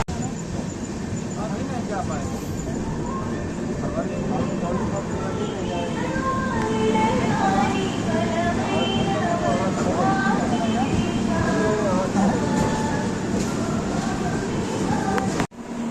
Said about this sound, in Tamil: இப்போ பார்த்தீங்கன்னா ட்ரெயின் எக்ஸாக்டாக 130ல் க்ரூஸ் பண்ணி போயிட்டு இருக்கு.